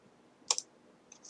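Two quick, quiet mouse clicks sound close together while working in a spreadsheet, followed a moment later by a fainter soft click, all against a hushed room background.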